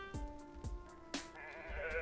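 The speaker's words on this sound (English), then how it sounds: "it sounds like a sheep in there." Sheep bleating in the Cat Detective Albert Wilde video game comes as a few short, nasal bleats with a faint, wavering tone under them. A soft steady background runs throughout.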